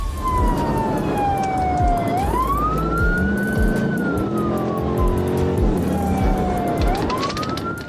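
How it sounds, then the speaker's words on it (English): A loud police siren wails steadily, its pitch sweeping up and down over a continuous engine rumble. "So, sirens back on, and the chase was on."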